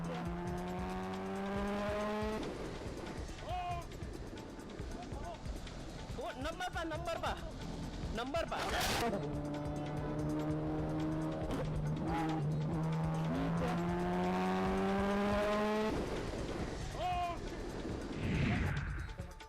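Car engine revving and tires skidding close by as a car chases and twice rams a motorbike, caught on a helmet camera, with loud engine surges, harsh screeching, sharp impacts and urgent voices talking over the chaos.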